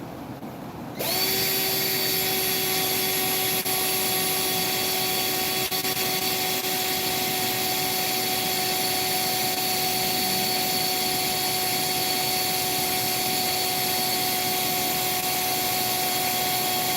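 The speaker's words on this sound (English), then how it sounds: "Double us over some wire. Chuck it up in a drill." A power drill spins a length of doubled-over wire, whirring up abruptly after a second and then holding a loud, steady high whine for the rest of the time.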